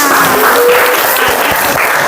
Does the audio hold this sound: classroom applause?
yes